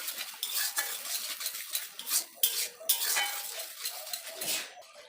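A spatula stirs and scrapes katla fish curry masala in a pan over low heat, village style, producing irregular bursts of close metallic scraping over a soft sizzle, with no one talking.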